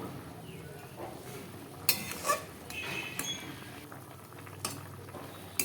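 Mango chutney being stirred in a pot as it simmers, with a faint bubbling bed and a few light clinks and scrapes of a utensil against the pot at scattered moments, no voices.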